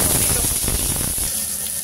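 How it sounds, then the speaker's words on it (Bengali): Five-spice seeds hit hot oil in a wok, giving a dense, close, steady sizzle and crackle that fades slightly toward the end. "কড়াতে তেল দিয়ে দিলাম, অল্প করে 5 ফোড়ন দিলাম"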